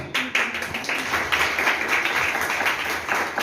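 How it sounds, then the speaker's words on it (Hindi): Children clap at a talk about polythene waste, a steady patter of light, overlapping claps that carries through the whole moment without speech. "जिन बच्चों ने थोड़ी सी ताली बजाने की कष्ट उठाई है"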